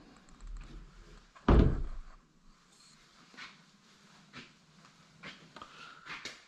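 Closet doors in a new-construction bedroom are pulled, giving one solid thunk of the doors knocking shut followed by faint handling taps and light rustling in a quiet room.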